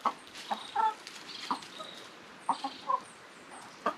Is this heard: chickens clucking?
yes